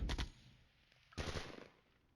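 Airstrike and gunfire from the wargame Flashpoint Campaigns: Red Storm, with two sharp bursts of rapid shots about a second apart, each fading into a short rumbling tail.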